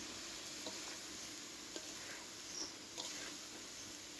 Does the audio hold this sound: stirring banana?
yes